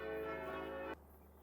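Church bells ring in Farming Simulator 25 on the Geistal map, a loud sustained tolling with rich ringing overtones that cuts off abruptly about a second in, leaving only a low ambient hum.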